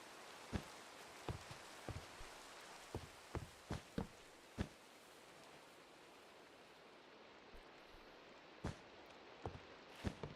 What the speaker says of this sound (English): it looks like it'll be raining again